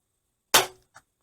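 A single sharp crack from a .22 rifle firing a .22 short round outdoors in the woods, loud and close, with a brief decay and a faint small impact about 0.4 seconds later.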